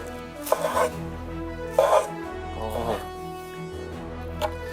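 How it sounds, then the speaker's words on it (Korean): A knife strikes a cutting board in a few spaced chops, with a low background hum and muffled voices under the sound. "좀 살짝 밀면서 도마 위를 약간 긁어줘야 돼"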